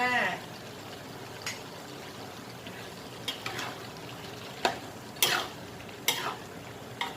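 Chili stir-fried with bamboo shoots and chicken in a pan: soft sizzling under a steady hiss, with a few sharp clinks of a spatula scraping the pan, a voice speaking faintly at the start.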